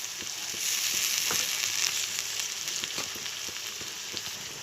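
Ginger-garlic paste sizzles steadily in hot bhetki fish oil, a dense close frying hiss with small crackles and a few stirring knocks throughout, and no voices.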